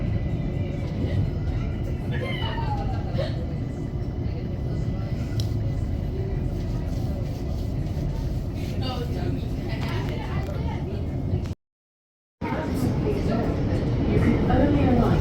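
A London Underground train in motion, a continuous low rumble and rattling from inside the carriage with a brief dropout near the end, and voices or announcements heard over it.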